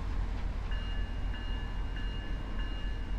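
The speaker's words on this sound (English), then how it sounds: "It's called the Metro Liner. It was the early Amtrak passenger train." An early Amtrak Metroliner passenger train in the Rails Unlimited railroad game rumbles along steadily, with a low continuous rolling drone and a short tonal horn-like whine that repeats every half second or so.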